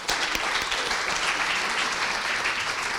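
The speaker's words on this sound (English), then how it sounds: "Could we have a further big round of applause for Margaret?" A big round of applause from the audience at a sustainability education recognition event, a continuous, fairly even patter of many hands clapping at moderate volume.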